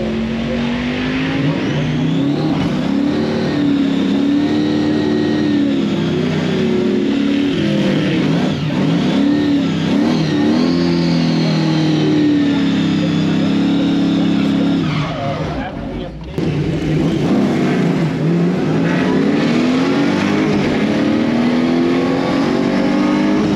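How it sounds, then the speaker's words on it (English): A 700hp Pontiac street car with a Butler engine, T101 4-speed and 9-inch rear end, roars hard down a dragstrip with loud sustained revving and shifts, tires squealing, while people talk over it. "The Butler motor's up there making, you know, 600 wheel horsepower just about"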